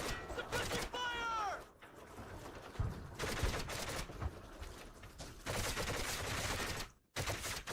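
Gunfire from the video game Medal of Honor Heroes comes in repeated bursts and fusillades, dense and continuous with brief gaps, mixed with other game sounds.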